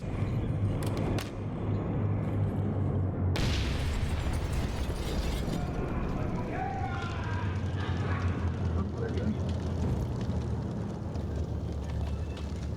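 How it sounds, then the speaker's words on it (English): In the video game Six Days in Fallujah, a heavy blast bursts out of steady game noise, followed by rumbling and crackling debris, while a voice talks over the din. "I had no idea the explosion would be this big."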